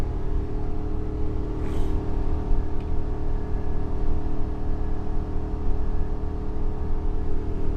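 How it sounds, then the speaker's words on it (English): Ford V10 engine in a 30-foot Allegro motorhome pulling up a steep grade, a steady loud droning rumble with a faint whirring fan clutch noise layered over it, continuous throughout with no talking. "Like the fan clutch has got a little noise in it."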